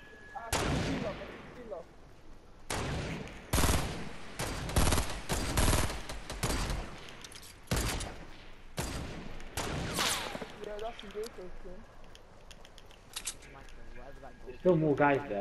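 Bursts of gunfire in a Fortnite squad battle royale fight, several loud volleys and rapid shot clusters, with players talking over and between the shots.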